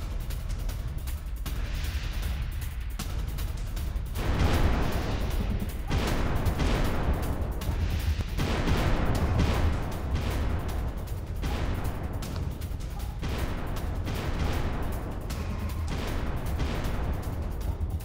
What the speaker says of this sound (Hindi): रात भर सुनाई दिए धमाकों की आवाज